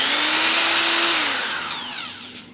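iBELL IBL SD10-85/86 electric screwdriver spinning clockwise to tighten a screw, a loud close motor whine lasting about a second that then slows and winds down.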